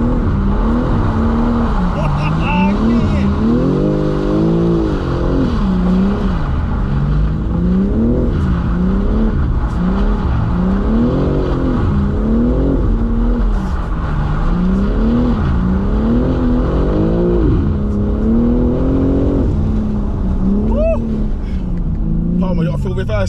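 A car in drift mode holds a loud, rising and falling engine rev in repeated waves over a continuous rumbling drone, heard from close inside the cabin, with occasional voices underneath.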